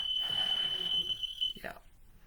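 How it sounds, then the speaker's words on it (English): A smoke or fire alarm sounds a steady high electronic tone indoors for about a second and a half, then cuts off as a voice speaks beneath it. "The fire alarm's going off."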